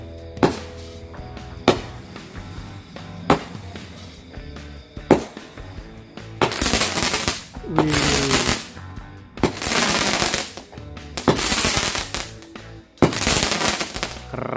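Firecrackers go off during Lebaran celebrations: first a series of single sharp bangs spaced a second or so apart, then denser bursts of crackling pops in clustered rapid volleys, loud and close.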